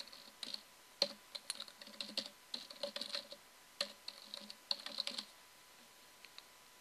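Computer keyboard typing in quick bursts of crisp, close key clicks with short pauses between, quiet and alone with no talking.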